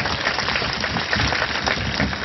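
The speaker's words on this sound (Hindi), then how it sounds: "इसके लिए आप लोग एक बार जोरदार तालियां इन बच्चियों के लिए बजाएं" An audience at a local programme applauds the young girls after their performances on water conservation and prohibition, giving dense, continuous clapping that stays steady and fairly loud throughout with no talk over it.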